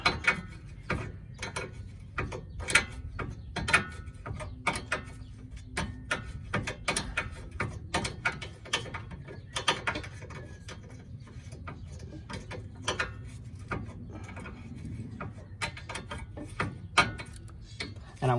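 A ratchet wrench clicks in quick bursts of sharp ticks, pausing and restarting, while working on the outer tie rod end of a 2012 Hyundai Veloster, close and moderately quiet, with faint talk in places.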